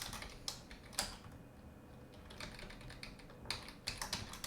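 Someone types on a computer keyboard while coding, irregular close clicks and short bursts of keystrokes with brief pauses between them, quiet and without voices.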